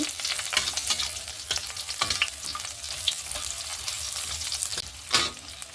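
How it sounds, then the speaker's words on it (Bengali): Chopped onion fries with garlic in oil in a pan for arhar dal, a dense continuous sizzle broken by scattered spatula scrapes and taps, close by with no talk. "এখন এর মধ্যে দিয়ে দেব কেটে রাখা পেঁয়াজ কুচি"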